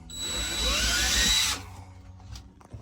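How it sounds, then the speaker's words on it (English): Power drill fitted with a hole saw cutting through insulation into a cargo trailer roof, a loud whining grind for about a second and a half before it stops, followed by quieter handling noises. "I can drill through this until I plug up the hole saw"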